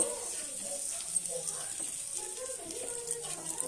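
Hing fries in heated oil for a Bengali green peas paratha, giving an even, continuous crackling hiss at moderate level while someone talks over it throughout.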